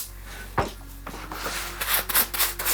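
A rag soaked with disc brake cleaner rubs the jockey wheels of a Shimano mountain bike rear derailleur, making soft, uneven scrubbing and wiping sounds with a few sharper scuffs, close up and without speech.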